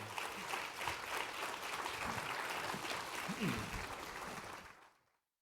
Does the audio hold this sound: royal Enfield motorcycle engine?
no